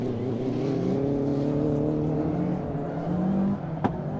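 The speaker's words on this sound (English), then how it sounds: "So the Escort Cosworth across the loose section here." A Ford Escort Cosworth rallycross car races across a loose gravel section, its engine droning steadily with shifting pitch over several seconds alongside other engine noise, with a brief sharp crack near the end.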